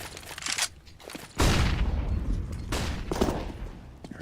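Grenades burst during a competitive tactical shooter match, one sharp blast then a louder, longer rolling detonation with scattered crackle, close and loud with no talk over it.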